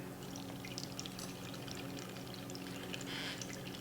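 A fifty-fifty mix of vinegar and water is poured slowly into a jar, producing a faint, steady splashing trickle throughout.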